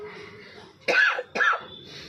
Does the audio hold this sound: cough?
yes